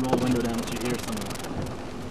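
Severe thunderstorm with hail and heavy rain, heard from inside a vehicle: a steady loud wash of rain and wind throughout, with a voice and other voices speaking over it in the first part.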